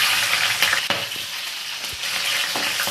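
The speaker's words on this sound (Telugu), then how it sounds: "కళాయి పెట్టి ఆయిల్ పోసుకున్నానండి. ఇప్పుడు ఆయిల్ కూడా వేడెక్కింది కదండి. నేను ఫస్ట్గా పచ్చిమిర్చి వేస్తున్నానండి." Green chilies fry in hot oil in a pan for a chicken curry, giving a loud, steady crackling sizzle with a few sharp pops and clinks throughout, no voices.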